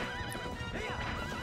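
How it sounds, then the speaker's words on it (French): A horse in Zelda Twilight Princess HD whinnies with rising and falling neighs over the clip-clop of hooves, loud and continuous, with no talk. "il y a aussi des scènes où nous sommes avec notre cheval"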